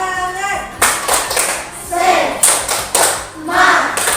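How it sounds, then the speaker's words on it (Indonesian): Schoolchildren in a classroom perform a rhythmic spirit clap, several sharp group claps in a patterned beat with children's voices chanting between them. "Untuk menambah semangat kita, mari kita tepuk semangat."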